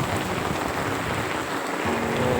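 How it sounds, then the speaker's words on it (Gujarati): Heavy rain pours down on a farm during a downpour, a dense, steady hiss of water that stays loud and constant throughout, with no voices. "બહુ જોરદાર વરસાદ પડે છે"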